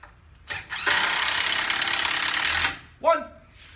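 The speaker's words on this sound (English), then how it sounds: "So I'm going to fasten this in place." Power tool driving fasteners into a wood-framed window lintel, a loud burst of about two seconds after a short blip, followed by a brief voice.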